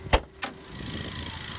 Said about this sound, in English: Go ahead and open the hood.